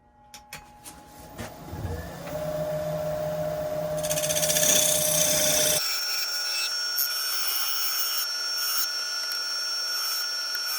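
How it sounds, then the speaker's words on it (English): A bowl spinning at 960 RPM on a wood lathe has a tenon cut into its base by a turning tool, giving a steady, close scraping hiss under the hum of the machine after a few scattered knocks at the start. "I'm putting a tenon on the base because I've got a nice new set of jaws I want to try as well"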